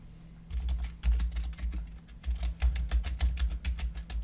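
Quick, steady clatter of keys being typed on a computer keyboard, close and clear, with a short pause in the middle.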